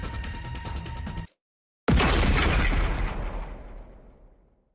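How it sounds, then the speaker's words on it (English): A short, sharp explosion in the video game The Hundred Line: Last Defense Academy cuts in after a brief silence, a loud close blast whose rumbling tail slowly fades over several seconds, preceded by a steady game tone. "A short, sharp explosion suddenly rang out around us."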